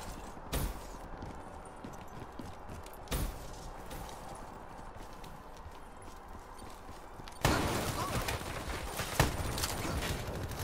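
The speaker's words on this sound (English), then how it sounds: "fucking people up with this goddamn shotgun" Shotgun blasts in a video game: two sharp, loud single shots a few seconds apart, then a longer burst of noisy gunfire and action, over steady background game noise.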